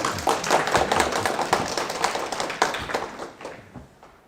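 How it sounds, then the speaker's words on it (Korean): Audience applause at a Korean lecture, a dense patter of many hands clapping close and fairly loud, tapering toward the end of the few seconds with no talk over it. "박수 한번 쳐주십시오, 여러분."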